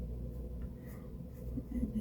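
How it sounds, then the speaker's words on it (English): A black pastel pencil scratches steadily across paper, adding fine darker lines to a pastel study of an oriole's claws and branch; soft, close and continuous strokes with no talking. "Now I also want to come back with the black pencil here"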